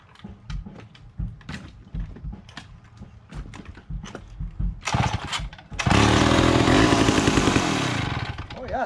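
Pioneer 650 chainsaw revived from dead, a run of sharp pull-start and sputtering bursts, then the saw catching and screaming loudly and steadily as it cuts, close by.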